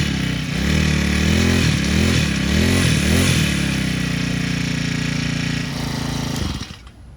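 A petrol grass cutter engine runs loud and close, a harsh buzzing drone that dips and rises in pitch a few times before holding steady and cutting off at the end.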